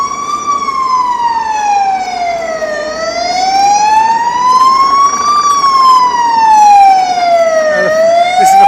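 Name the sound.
fire engine siren on a Barcelona street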